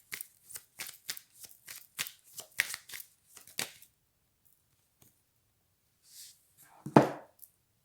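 Tarot cards shuffled for a reading, a rapid run of crisp riffling snaps close to the microphone, then a pause and a final firm slap or tap of the deck.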